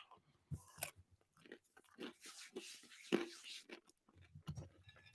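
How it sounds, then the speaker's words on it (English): Close crunchy chewing and biting at an ASMR stream, irregular bursts of crisp crunches with brief pauses between bites and a sharper snap near the end. "Crunchy ASMR."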